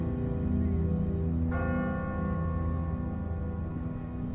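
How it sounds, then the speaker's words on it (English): A church bell tolls once in The Walking Dead video game episode 4, struck loud and ringing out over a steady low rumble of background ambience, then slowly fading. "Ask not for whom the bell tolls."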